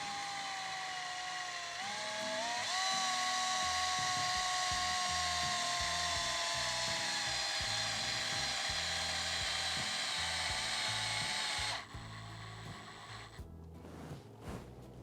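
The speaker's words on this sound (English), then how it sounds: "I'll just give it a whizzy wazzy woo woo with the old drill just to tighten it up" A power drill whines steadily with a rising pitch for several seconds while tightening a fitting for wisteria training wire, then cuts off, followed by faint handling clicks and rustles.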